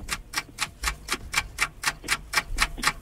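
Ticking clock sound effect on a Hungarian radio game show, a steady run of sharp, evenly spaced ticks, loud and close with nothing else over it.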